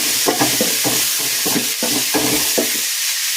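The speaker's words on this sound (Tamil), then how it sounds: "கொஞ்சம் டால்டா, மாங்காய் எல்லாம் போட்டு நல்லா வதக்கிக்கணும்." Raw mango pieces sautéed in Dalda in a pan for a sardine and mango fish curry, with a steady sizzle under rhythmic, close scraping stir strokes that stop near the end.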